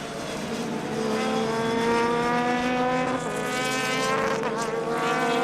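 Sports race cars with big wings race through turns one and two at Hampton Downs, several high-revving engines in a loud, steady layered whine with pitch shifts as they brake and accelerate, and no talk.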